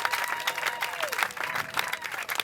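A funeral congregation in a church breaks into loud, sustained applause and cheering, a dense crowd clapping with a few voices audible in the mix.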